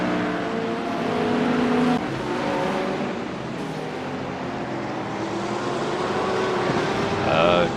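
Ford Mustang GT3 race car in a racing video game at Daytona, in the rain at night: a steady engine drone with shifting harmonic tones that rise and fall, loud and continuous, with a person talking over it.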